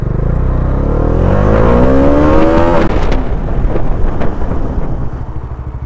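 A Bajaj Dominar 400 motorcycle accelerating hard for a braking test, its engine revving up through rising pitch, shifting, then dropping into a rough lower drone with wind buffeting, loud and close.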